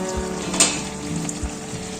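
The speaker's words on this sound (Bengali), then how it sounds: "নেড়ে চেড়ে দিচ্ছি।" Chicken pulao is stirred in a pot with a close, crackling sizzle, broken by a few soft knocks and scrapes of the spoon, no speech.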